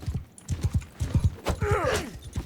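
Horse hooves clip-clop in a steady repeated rhythm while riding into battle in Mount & Blade II: Bannerlord, close and fairly loud, with a brief neigh rising partway through.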